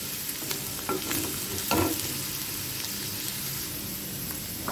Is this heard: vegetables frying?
yes